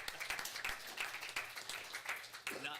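Applause from a small group at a city council meeting in Turlock, steady clapping with uneven peaks for about three seconds, fairly faint and roomy, with some voice-like sound mixed in.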